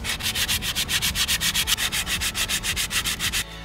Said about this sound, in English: then from there a huge amount of sanding